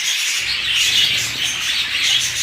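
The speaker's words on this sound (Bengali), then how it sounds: "দেখতে পাচ্ছেন খুবই ফ্রেশ উড়াউড়ি করতেছে।" Budgerigars chirp and twitter continuously in a cage, a close, busy chatter of high tweets with soft wing flutters beneath.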